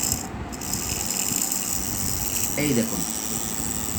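A DVD motor with gears runs during a bench test, giving a steady mechanical whir and faint gear buzz; a voice speaks briefly partway through.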